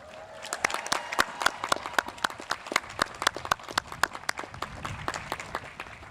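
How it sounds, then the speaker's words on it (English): Graduate and adult students at the Marist College commencement clap in a loose, sparse round of applause, with individual sharp claps standing out close by at a fairly steady rhythm, moderately loud. "Students, please show them your gratitude with a round of applause."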